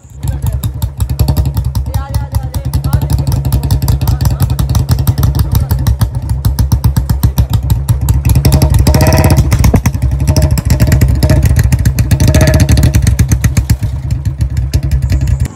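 A 2010 Royal Enfield Bullet Classic 350cc motorcycle engine runs close and loud with a steady, rapid thumping beat throughout, swelling slightly as it revs.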